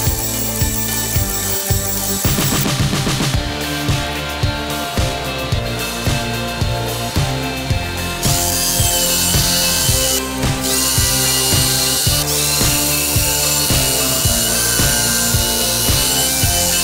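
A router table cuts rebates in solid oak for a wedding crate, a loud continuous high-pitched motor whine with repeated rhythmic cutting pulses as the wood is fed through.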